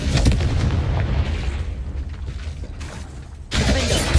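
Confringo fire spell explosions in the Hogwarts Legacy video game, a dense run of loud booming blasts and crackling impacts with a fresh burst near the end.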